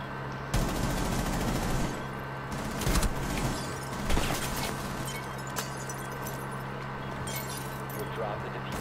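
Gunfire in Rainbow Six Siege, a tactical shooter game, is heard as sharp shots and short bursts over a steady background hum, with speech present.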